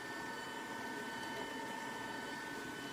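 An ECOVACS DEEBOT M80 Pro robotic vacuum cleaner runs with a faint, steady whirring hiss and a thin constant tonal whine, unbroken and without voices.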